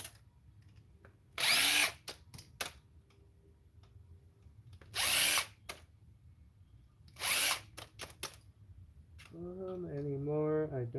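Power drill backing screws out of discarded electronics during e-waste recycling, three separate whirring bursts with quiet handling clicks between them, then a rising higher motor whine at the end.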